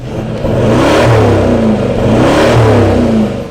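A Toyota Landcruiser 200 with a Manta Performance DPF-back twin-exit exhaust gives a deep, throaty note, revving up and down in two rising swells, loud and close, with a rumbling burble between pulls.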